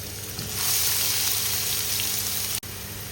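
Onions hitting a generous layer of hot cooking oil, giving a steady loud sizzle and hiss that swells after a soft start and holds throughout, with one brief dropout near the end.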